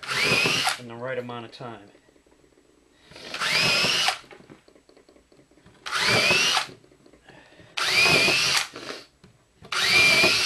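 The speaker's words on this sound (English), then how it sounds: "I'll just pre-drill all the holes just to get it out of the way." Power drill pre-drilling holes in wood for a ten-shot rack, four loud bursts of whirring a second or so each, spaced with pauses, plus a short spoken remark between the first two bursts.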